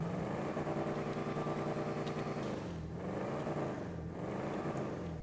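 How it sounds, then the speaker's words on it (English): A deep, burbling V8 engine of a Cheval Picador in GTA Online idles and revs, its pitch dipping and rising in waves, steady and fairly close with a synthetic edge. "it sounds like a big, American car with a V8"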